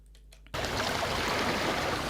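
Close water in a beach ambience recording cuts in abruptly as a dense, steady wash of rushing water that fills the rest of the clip.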